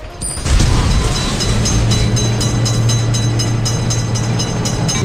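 A video-game train thunders past a level crossing, loud and close, a sustained heavy rumble with rhythmic rail clatter throughout.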